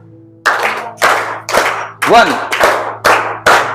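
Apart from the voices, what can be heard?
class clapping in batches of three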